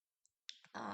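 Computer mouse clicking on a dashboard screen: a faint single click, then a sharper pair of clicks close together, followed by a burst of broader rustling noise.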